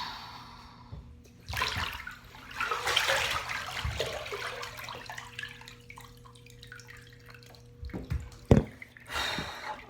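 Water in an Epsom salt bath, with sloshing and splashing swells, scattered drips and one sharper splash near the end, heard close in a quiet bathroom with a low hum underneath.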